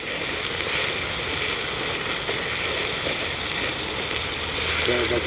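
Chilli con carne sizzles steadily in a frying pan on a Trangia 27 camping stove outdoors in woodland, a dense, continuous crackling hiss held close and fairly loud for the whole stretch.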